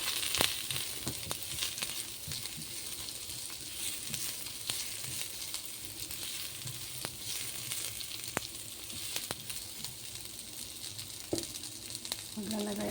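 Garlic, then onion, frying in a pan give a steady, even sizzle that holds throughout, with occasional light clicks of stirring and no talk over it.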